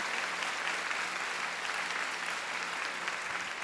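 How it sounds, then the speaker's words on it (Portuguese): Dense, steady audience applause at a religious gathering, a continuous wash of many hands clapping at moderate distance with no pauses. "Você aplaudiu, você me provocou."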